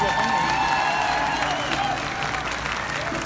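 Audience applause at a mariachi concert, a dense wash of clapping and crowd noise with faint tonal sounds running through it, sustained at a steady level.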